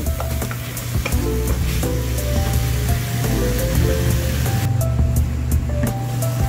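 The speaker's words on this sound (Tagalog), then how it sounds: "kumukulo na po yung ating nilagay na chicken" Chicken pieces for a Filipino afritada cook in a pan with a steady, close sizzle and bubbling, with occasional soft clinks of stirring and no talking.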